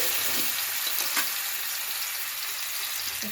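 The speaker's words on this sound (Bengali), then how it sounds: "প্রথমে আমি পেঁপেটাকে একটু ভেজে নেব।" Papaya pieces fry in white oil in a wok, giving a steady, close hiss of sizzling that runs evenly throughout with a few faint stirring clicks and no voices.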